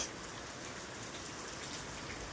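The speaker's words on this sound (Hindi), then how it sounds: "आज तो भाई बारिश आ रही है, देखो" Heavy June monsoon rain pours down in a steady, dense hiss of drops hitting surfaces, constant and fairly soft, with no voices.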